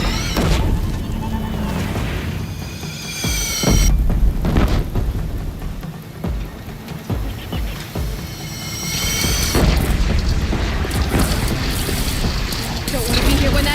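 Cannon fire in the Horizon Zero Dawn battle for Meridian: loud booming blasts and crashing impacts, several heavy hits over a rumbling din, with voices shouting in between.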